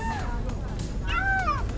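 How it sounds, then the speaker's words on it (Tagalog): A few cat meows rise and fall over a steady background hum, one short call early and a longer, louder one near the end. "Yan, mga pusa. Nakaabang sa mga huli na isda na maliliit."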